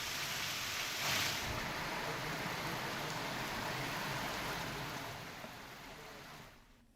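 Heavy monsoon rain pours steadily in Hinjawadi, Pune, in a dense, even hiss, fading slightly toward the end.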